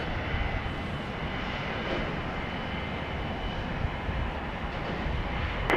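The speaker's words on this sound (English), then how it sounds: "This appears to be a Cessna Citation XL." A Cessna Citation XL business jet at an airport at night gives off a continuous, loud engine roar with a steady whine, unbroken and fairly close.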